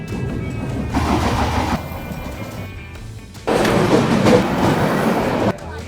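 An Indian train rattles and clatters steadily along the tracks, heard loud and close from inside a passenger compartment, with the rumble swelling and easing in waves.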